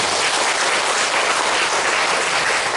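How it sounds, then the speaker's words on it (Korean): An audience at a church worship service bursts into steady, dense clapping, loud and close, with no voices over it for the whole stretch. "박수 한번 쳐주세요"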